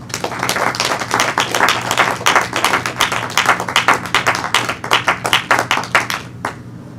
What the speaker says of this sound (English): I think we ought to give a hand clap for the life of our Mother Roberta.